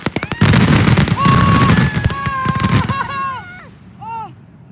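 Fireworks burst in a rapid volley of loud cracks and booms, then trail off into fainter pops, with excited voices reacting over the display.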